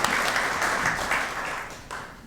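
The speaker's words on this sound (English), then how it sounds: "So give them a round of applause." Banquet audience at a civic association awards dinner applauds steadily, a dense wash of clapping from many people that holds for a couple of seconds before tapering off.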